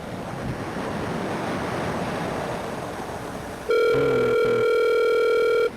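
A telephone ring tone sounds once, loud and steady for about two seconds, while calling a friend, following several seconds of rushing wind-like noise on the line.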